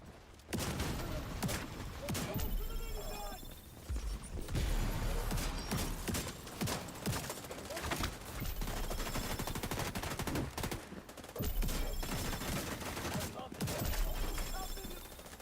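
Fast, loud bursts of automatic gunfire and scattered single shots fill a firefight in the video game The Division 2, with a few brief pauses between volleys.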